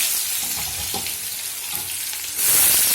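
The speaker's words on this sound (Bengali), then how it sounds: "মাছ ভাজছি" Loud, continuous sizzle of fish frying in hot oil, a dense crackling hiss that swells briefly near the end.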